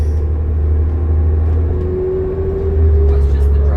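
A 2007 New Flyer D40LF Calgary Transit bus drives along with a steady low engine drone and road rumble, heard from inside, with a rising whine building toward the end while people talk over it.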